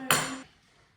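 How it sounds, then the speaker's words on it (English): A knife chopping spring onion strikes the board once, a sharp, bright knock with a short ringing tail that fades within half a second, heard alone. "You want to chop up your spring onion, just like so."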